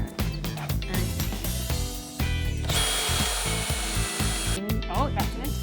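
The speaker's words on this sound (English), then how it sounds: "if I'm drilling in this way" Power drill boring into wooden furniture, a continuous whirring grind that rises in pitch and intensity partway through, with brief pauses and knocks, close and loud.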